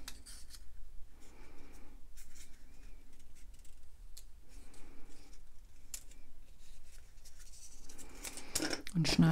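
Scissors cut water-slide decal film to a 1.5 cm width for stamping glass, a string of close snipping and rubbing strokes against a steady room hiss, with a louder clatter at the end.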